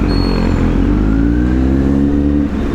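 Kawasaki Z900 motorcycle engine revving up close and loud, a steady rising growl with harmonics climbing across the whole stretch, no talk over it.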